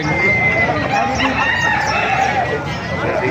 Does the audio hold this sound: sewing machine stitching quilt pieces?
no